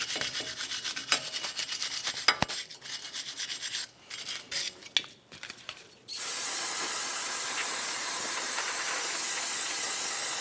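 Parts cleaner aerosol spraying onto the wheel bearing hub of a 2009-2019 Ford Flex, a sharp broad hiss that runs steadily and loudly for several seconds after some brief scrubbing and clatter.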